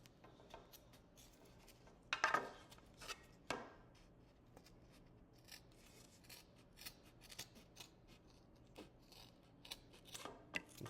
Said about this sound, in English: you take these scissors and you just run along the edge